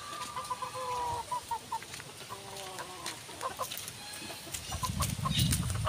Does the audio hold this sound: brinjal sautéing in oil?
no